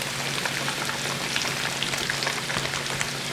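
Large beef short ribs brown in a hot pan, giving a dense, continuous close sizzle and spatter at fairly loud level with no pauses and nobody speaking.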